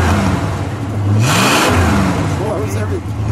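A 1968 Plymouth Barracuda convertible with a 318 V8 gets one sharp rev, the engine note climbing and falling back to a steady idle, loud and close, with people talking nearby.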